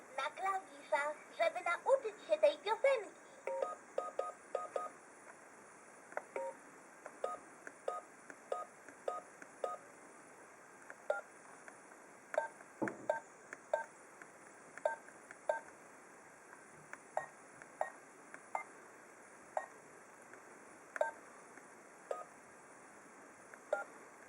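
A Fisher-Price toy smartphone plays a run of short electronic tone beeps, keypad-style musical number notes in an uneven rhythm, with a brief burst of busier tones at the start.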